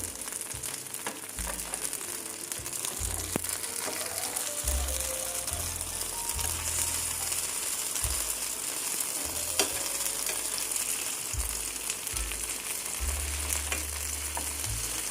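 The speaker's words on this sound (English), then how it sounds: "Now the paneer has been cooking for the last 1 minute." Paneer fries in an iodized pan with a steady, close sizzle and crackle that runs throughout, with occasional stirring scrapes and no voices.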